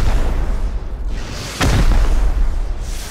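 A rocket explosion in the survival game Rust: one loud, close boom with a deep rumbling tail, set in a dense, continuous roar of fire and noise, with no voices.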